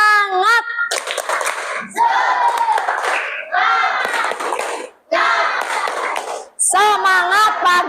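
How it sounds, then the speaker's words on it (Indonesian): A class of children does a rhythmic spirit clap routine, with patterned bursts of clapping broken by short pauses while the kids chant and shout loudly in unison. "Tepuk semangat."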